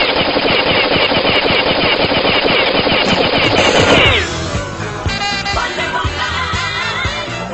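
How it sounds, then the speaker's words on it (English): Machine gun in a sustained, loud, rapid burst lasting about four seconds, then a clattering, noisy aftermath with a ringing tail. "But Wonder Woman, it's a machine gun."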